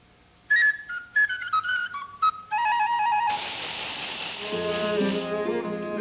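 A bright whistle toots a quick series of short notes, then a long breathy blast fades out under soft tones.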